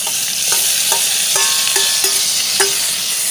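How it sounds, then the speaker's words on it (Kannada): Chopped green chilli and tomato frying in hot oil with a loud, steady close sizzle and repeated spatula knocks and scrapes against the pan. "ಇದನ್ನು 1 ನಿಮಿಷ ಚೆನ್ನಾಗಿ ಎಣ್ಣೆಯಲ್ಲಿ ಫ್ರೈ ಮಾಡಿಕೊಳ್ಬೇಕು."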